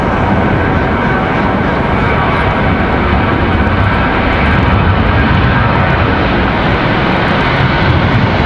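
A jet airliner passes at Raleigh Durham airport, its engines a loud, steady, broadband roar that fills the whole stretch without letting up.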